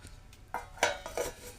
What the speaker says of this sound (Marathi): आता मी ह्याच्यावरती झाकण ठेवत आहे.